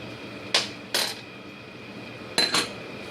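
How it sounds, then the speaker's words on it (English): A metal spoon clinks against a glass canning jar four times while scooping out overfilled food, in two quick pairs of bright, close taps over a quiet background. "I can just take a little bit out and put it back in the pot with the spoon"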